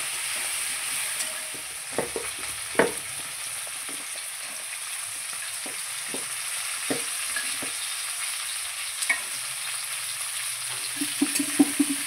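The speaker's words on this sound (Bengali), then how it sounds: "আলুগুলো হালকা লাল লাল করে আমি ভেজে নেব" Potatoes with a little turmeric fry in a pan, a soft constant sizzle broken by close scraping and knocking from repeated stirring.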